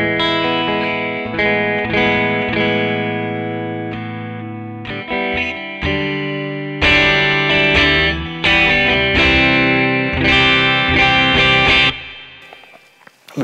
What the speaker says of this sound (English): we've got a nice reverb tone